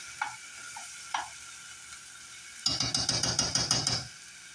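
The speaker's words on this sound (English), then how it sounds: "So I'm going to fry that up." Garlic frying in a pan, a faint steady sizzle broken by a couple of light taps, then a loud burst of rhythmic scraping and stirring close by for about a second and a half, with no talking.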